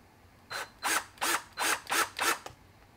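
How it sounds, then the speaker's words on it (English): A drill bites into a Casio SK1 toy synth in six short, evenly spaced bursts of whirring, each rising and stopping abruptly, close and clear with quiet pauses between. "let's get to drilling"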